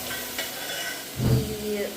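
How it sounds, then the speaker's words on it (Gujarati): Khichdi tempering in a pan gives a soft sizzle and stirring scrapes close up, with a brief louder burst of frying in the middle. "ખીચડી વઘારવાનું આવે"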